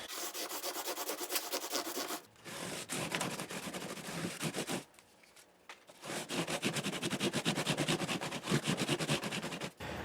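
Fine 1200-grit sandpaper rubs across the finish of a Taylor 314 acoustic guitar in steady back-and-forth strokes, close and continuous, with two brief pauses between rounds.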